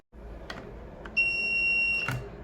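A multimeter emits a single steady, high continuity beep, close and clear, lasting just under a second while a MOSFET is tested, with faint clicks of the probes before it.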